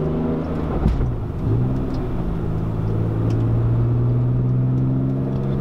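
A BMW M3 engine revs and accelerates, its deep hum climbing steadily in pitch and holding strong, close and loud with no talking.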